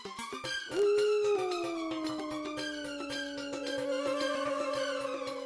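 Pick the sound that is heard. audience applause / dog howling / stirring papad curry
dog howling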